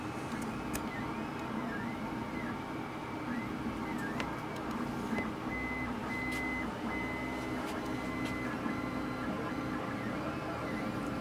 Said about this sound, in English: Just finishing up print here.